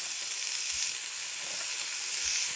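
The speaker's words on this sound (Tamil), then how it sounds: "எண்ணெய் சூடாகட்டும். பாருங்கோ, வெங்காயத்தை போடுறேன்" Sliced onions sizzle in hot oil on a griddle for kothu roti, a steady close bright hiss with no voices.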